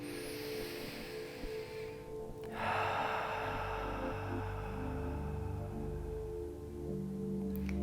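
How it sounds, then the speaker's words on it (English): A single deep breath drawn in and then released in a long, slow exhale, close and soft over a low background hum, during a yoga and meditation session. "take a deep breath in and let it all out"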